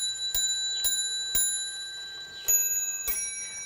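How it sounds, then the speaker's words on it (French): A Louis XIV pendulum clock, set off by pulling its small cord, strikes on two different bells. Five clear, ringing metallic strikes come at uneven intervals, each one leaving a long shimmering decay, close and alone. "On tire sur le petit cordon de tirage. Et donc, ça sonne sur deux timbres différents."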